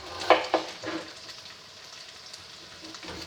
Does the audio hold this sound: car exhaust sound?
no